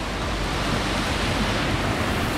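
Waterfalls with plunge pools in Snowdonia pour in a loud, continuous broadband rush, close and unbroken, with no talking.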